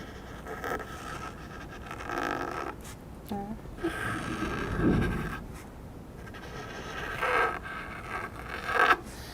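Pencil outlining letters on a canvas for a beach decor craft, a soft, close scratchy scraping of graphite that comes in short strokes with pauses between them, quiet and alone with no voices.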